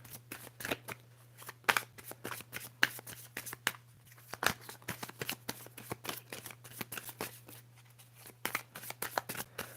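Moonology tarot cards handled and shuffled up close, a steady run of crisp riffling flicks and soft slaps repeating throughout with a faint low hum beneath, no talking.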